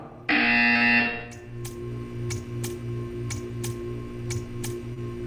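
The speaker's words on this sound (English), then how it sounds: "You will hear a buzzer. When you hear the buzzer, stare at the art." A loud electronic buzzer in Portal 2 blares for about a second, followed by a steady hum and a series of sharp, regularly spaced ticks.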